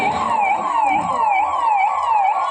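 At a mock emergency drill at Nehru Stadium in Shivamogga, a fire and emergency service vehicle's siren wails loud and close, with rhythmic rising and falling sweeps repeating steadily throughout.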